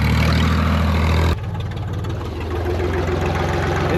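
A tractor engine idles steadily nearby, a low continuous mechanical rumble that shifts in tone about a third of the way through and then holds even to the end.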